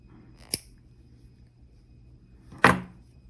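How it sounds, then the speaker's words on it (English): Two sharp snips of flush cutters or scissors trimming the ends of soft flex beading wire on a jasper bracelet, the first light, the second louder and closer, with quiet room tone between. "now these two wires that are hanging off, we will just cut them away"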